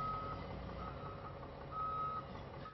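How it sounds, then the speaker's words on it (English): Repeated reversing beeps from PennDOT snow trucks loading up for another round of snow, sounding in short bursts over a steady engine rumble and yard noise. "PennDOT trucks load up for another round of snow."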